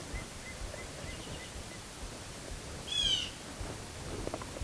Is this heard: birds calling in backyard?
yes